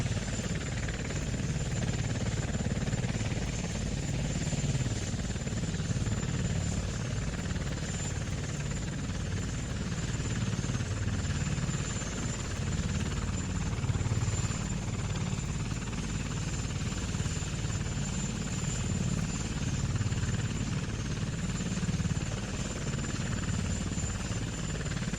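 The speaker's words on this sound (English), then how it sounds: "give me the helicopter noise" Helicopter rotor noise in the video game Kerbal Space Program, a continuous loud chopping whir that holds steady for the whole stretch, without voices.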